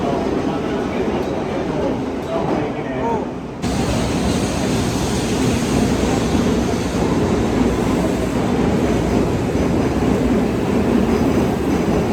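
A Shinkansen bullet train pulls into a Japanese station on the Nagoya–Tokyo line, a steady loud rumble and rail noise that swells after the first few seconds and holds, with faint voices in the background.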